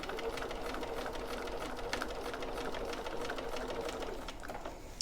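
A sewing machine stitches steadily around the corner of a gusset with a half-inch allowance, its fast, even needle chatter running close and continuous for the whole stretch.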